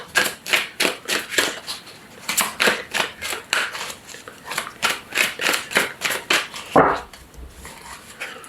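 Tarot cards being shuffled and drawn from a deck, a rapid run of crisp, close papery flicks and snaps in a steady rhythm, ending with a soft thud of cards set down.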